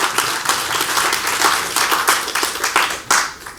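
An audience at a panel discussion applauds a speaker, a dense steady round of clapping that carries on without a break throughout.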